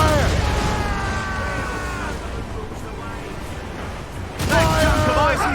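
Sailing ship cannons firing in the naval video game Assassin's Creed Rogue: a loud volley of booms at the start fades into rumbling, then a second heavy burst near the end, with shouted voices over the battle.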